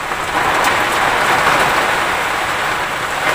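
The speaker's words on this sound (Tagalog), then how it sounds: "so ngayon bumuhos na naman" Heavy rain pours outside a car parked on a street side in Makati during a storm, a dense, loud, continuous hiss of drops drumming on the car, steady throughout with no talk.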